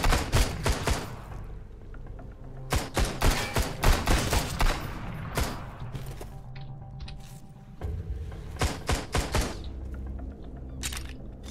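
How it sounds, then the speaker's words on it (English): Machine gun fire in the Sunkenland video game, repeated sharp bursts of rapid shots at close range, coming in clusters separated by short pauses. "They're hitting hard with this machine gun."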